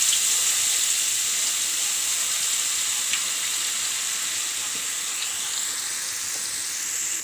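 Boondi for motichoor laddu frying in hot oil, a steady bright sizzle that stays loud and even throughout with no voices.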